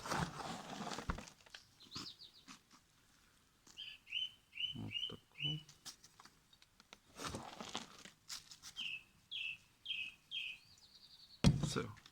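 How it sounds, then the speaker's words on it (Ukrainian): Birds sing short repeated chirping phrases in two bursts on a warm evening, fairly close, mixed with rustling and crinkling noises and occasional thuds from seed sowing. "Такий теплий вечір. Пташки співають."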